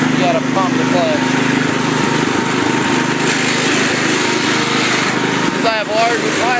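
A Cub Cadet tractor with larger tires runs steadily just after a cold start, its small engine droning loud and continuous throughout, with brief faint chirps on top.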